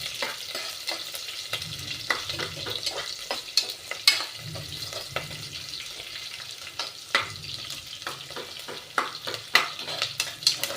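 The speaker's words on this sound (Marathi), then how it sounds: "लाल होईपर्यंत आपल्याला कांदा हलवायचा आहे।" Chopped onion stirred and fried in a pan until reddish, giving a steady close sizzle broken by frequent sharp scrapes and clicks from the stirring utensil, with no voices.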